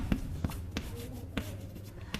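Pen writing on paper during a Hindi-language school maths lesson on quadratic equations, giving soft scratching strokes and light taps at an irregular pace, close and quiet with no one speaking.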